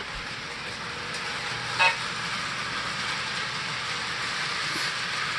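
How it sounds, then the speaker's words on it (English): A steady low rumble and hiss of a PLC-controlled model mainline train starting up on track, with a brief whistle-like toot near the start; no voices. "Right now the run mainline train is starting up."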